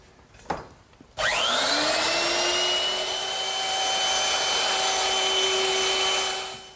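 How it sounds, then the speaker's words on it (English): A woodworking router with a 1/4-inch bit easing the edges of wood for a hearth side settle. A brief knock comes first, then the motor spins up to a loud, steady whine and runs alone until it starts to wind down at the end. "And to do that, I'm just going to use my router."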